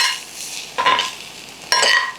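Ivy gourd pieces being tossed and mixed with spices in a bowl for pickle, with two short bursts of scraping and clatter against a quiet background.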